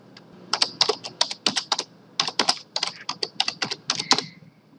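Keys on a computer keyboard clatter in quick bursts as a quiz question is typed into Moodle. The taps come close and crisp, grouped into short runs with brief pauses between them.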